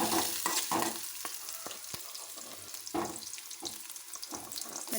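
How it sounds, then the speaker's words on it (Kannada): Carrots and green chillies fry in a pan for masala Maggi, a steady close sizzle punctuated by sharp clinks and scrapes of stirring, with no voices. "ಚೆನ್ನಾಗಿ ಹುರಿಯಬೇಕು."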